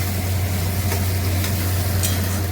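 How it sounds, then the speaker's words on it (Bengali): Onions fry with chopped tomato and ginger paste for chicken kosha, a loud continuous sizzle over a low steady hum, with a few brief stirring scrapes and no talk. "টমেটোটা দিয়ে দেবো, আর একটু আদা বাটা দিয়ে দেবো, দিয়ে আবার আরেকটুখানি ভাজবো"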